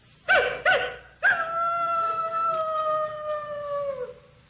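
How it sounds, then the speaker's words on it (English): A coyote gives two short yelping barks, then a long sustained howl that holds steady and drops off at the end, close and clear. "That's a coyote."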